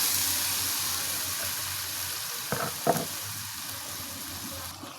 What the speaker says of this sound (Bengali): আমি মাংসটা দিয়ে মশলার সাথে একটু ভালোভাবে ভুনে নিচ্ছি।